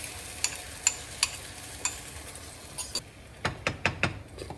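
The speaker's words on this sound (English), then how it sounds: "I'm going to take my egg mixture and I'm just going to add this to the pan" Egg mixture poured into a pan of half-cooked vegetables, then stirred: a soft steady sizzle with a series of sharp utensil clinks and scrapes against the pan, spaced irregularly and closer together toward the end, no talking.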